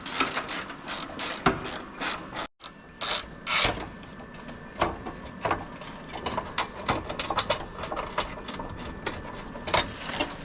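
A ratchet unbolting the factory front bumper on a Ram 2500/3500 truck, bursts of rapid close clicking in repeated runs with brief pauses between them, loud and without speech.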